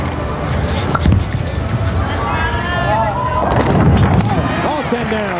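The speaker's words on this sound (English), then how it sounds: "All 10 down. Big strike as Clara answers Cara's charge." A bowling ball crashes into all ten pins for a strike in the final of the 2006 USBC Women's Challenge, a loud clattering burst over constant arena crowd noise and voices.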